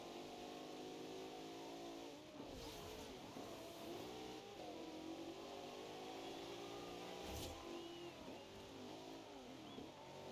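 An Alfa Romeo car engine in Forza Horizon 2 drives steadily for the whole stretch, with sustained mid-pitched engine tone rising and falling as it revs and shifts, close and loud, with no talking.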